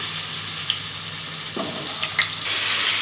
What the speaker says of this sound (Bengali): এবার একে একে আমি আলুগুলো ভাজার জন্য দিয়ে দিলাম